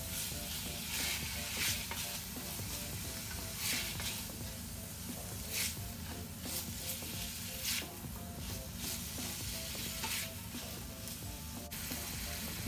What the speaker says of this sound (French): je vais faire colorer un petit peu les oignons et les lardons